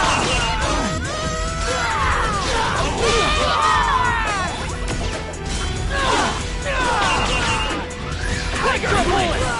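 A Thunder Spark attack skill in the .hack//G.U. Vol. 2 video game crackles with crashing, zapping bursts and sweeping electric whines, while voiced battle shouts and grunts rise over the din.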